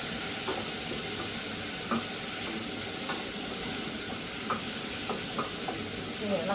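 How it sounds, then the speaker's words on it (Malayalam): Chopped onions sautéing in a pan with salt while squid cooks for a roast dish, giving a steady sizzling hiss broken by light, regular scraping strokes of a stirring spoon, close and moderately loud. "ഇപ്പോൾ ഉള്ളി ഒന്ന് വഴണ്ട് കിട്ടുന്നതാണ്."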